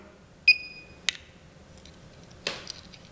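A short high-pitched electronic beep from a Livolo VL-C701R touch light switch being programmed to a remote, followed by a couple of light clicks and a rustling tap in a quiet room.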